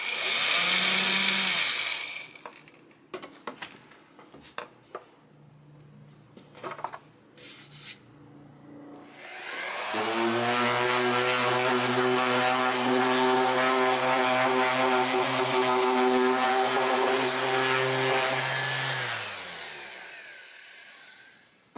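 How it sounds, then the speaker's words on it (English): An orbital sander works over the refinished body of a Harmony H1213 archtop guitar, giving a steady, loud whirring drone for about ten seconds after a few short starts and clatters, then cutting off. "that orbital sander done a lot for us"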